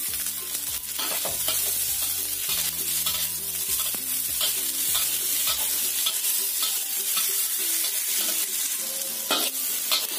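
Steady sizzle of tomatoes and chili frying in a pan with scraping and stirring sounds, a low background tone fading out midway, no talking.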